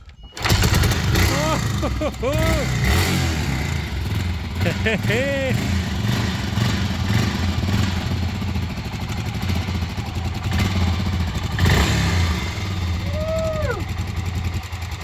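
An old Suzuki DR500 Dakar motorcycle engine catches and starts, then keeps running with a steady, close, chugging idle as people talk over it.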